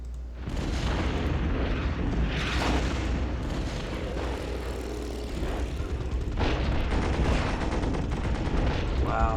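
Artillery bombardment in the World War I strategy game Commander The Great War: continuous distant booms and crackling blasts roll through a dense, steady battlefield rumble.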